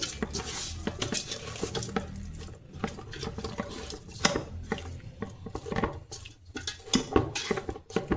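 Spoon clinks and scrapes against a metal bowl as dry spices are stirred together, with irregular taps and rattles close by.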